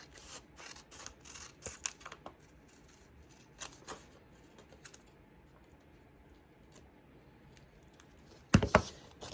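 Scissors snip through folded paper to cut out a clog pattern, a string of small crisp clicks and crunches close by, ending in one louder rustle of paper.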